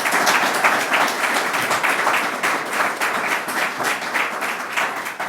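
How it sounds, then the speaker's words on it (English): A crowd at an affordable senior housing celebration claps for the governor, loud continuous applause from many people holding steady throughout with no speech over it. "Let's give our governor another round of applause."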